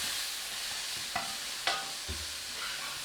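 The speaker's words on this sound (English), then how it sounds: "I'm going to throw this tomato in" Tomato dropped into curry masala frying in a pan for Langada curry: a steady broadband sizzle with a few sharp clatters and a soft thump as pieces go in, no talking.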